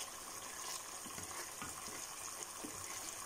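Coconut milk cooking down into latik, bubbling and sizzling in its own oil over high heat, makes a steady close crackle with soft spits and pops throughout, and no voices.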